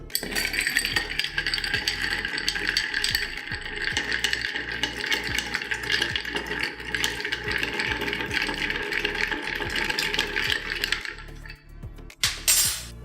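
Ice rattles and clinks continuously as a dry martini of gin and dry vermouth is stirred in a mixing glass, a steady fast tinkling that stops near the end, close up.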